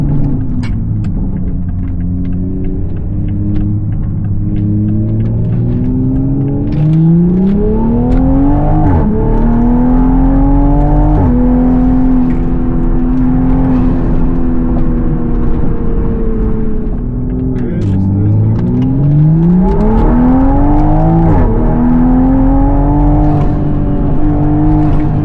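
A Toyota MK5 Supra on a night test drive after a spark plug change, its engine humming loudly from inside the cabin and rising in repeated gear-by-gear revs with shifts between, under a constant road rumble and with no voices.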